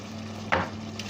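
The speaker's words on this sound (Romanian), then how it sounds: "Adăugăm o ceapă tocată" Chopped onion drops into a pan of sizzling mushrooms being cooked for veggie linguine, giving one brief burst of louder sizzle over a steady frying hiss.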